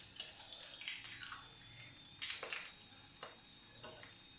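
Ready-made pani puri frying in hot oil over lowered heat, giving bursts of bubbling and sizzling that rise and fall, fairly quiet and with no talking.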